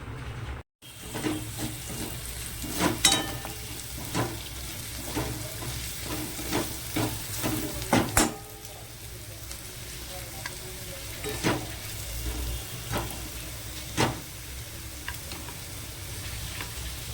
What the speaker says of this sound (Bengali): মুগ ডালের সবজিটা ভেজে নিয়েছি, ওর মধ্যে জিরে আদা সব শুকনো লঙ্কা ফোড়ন দিয়ে দিয়েছি